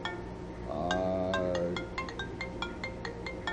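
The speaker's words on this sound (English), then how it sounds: "I have someone coming in on the phone" A phone rings for an incoming call with a bright electronic tune that repeats quickly, plus a gliding tone near the start, loud and close with no talking.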